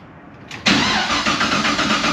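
A Pontiac GTO cold-starts with a brief crank that catches abruptly into a loud, close engine roar, then settles into a steady, slightly pulsing idle.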